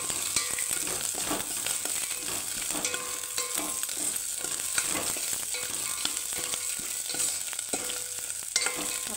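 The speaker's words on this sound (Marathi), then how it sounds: "शेंगदाणे पण तळून घ्यायचे थोडे" Onion and peanuts fry in a pan with a continuous crackling sizzle. Frequent spatula scrapes and light clicks come in an irregular rhythm, close and fairly loud, with no speech.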